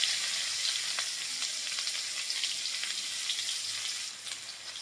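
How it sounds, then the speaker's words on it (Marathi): Onion frying with cumin and asafoetida in hot oil for a masala bhindi dish, a loud close continuous sizzle with small crackles and pops, easing slightly near the end. "आता आपला कांदा भाजतोय"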